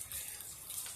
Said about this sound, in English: this is probably about as soft as it will rain